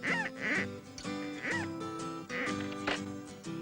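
A goose honks in a run of repeated nasal calls, roughly one or two per second, close and clear with no talking over it.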